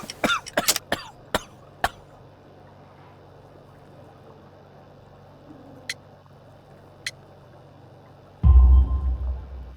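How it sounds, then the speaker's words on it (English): A man in the video game Sherlock Holmes The Devil's Daughter with a severe cough and coal dust in his lungs, coughing in a rapid harsh burst, then single coughs, before a loud rumbling thud. "You have a severe cough."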